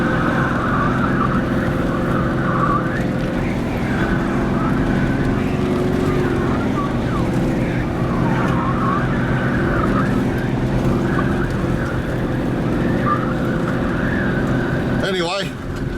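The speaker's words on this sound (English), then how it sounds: "You can hear the tyres squelching through the sand." Car tyres squelch through wet beach sand on a southern Australian beach near Fitzgerald River National Park, a steady, loud rumble of driving noise throughout with a brief sharper burst near the end.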